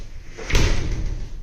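A newly repaired door in a new-build house swung shut and latching, one close, solid thump with a brief rattle fading out, loud against a steady background hum.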